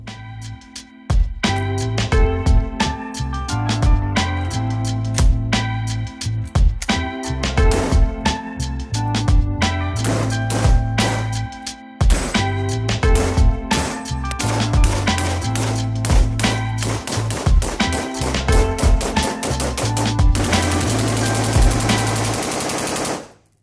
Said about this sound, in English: let's see how this gun works in some full auto.